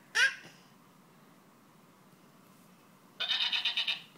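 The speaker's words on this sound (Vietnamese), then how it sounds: "con dê." A goat bleats twice, a sharp cry at the start and then a longer wavering, pulsing bleat near the end, with quiet pause between.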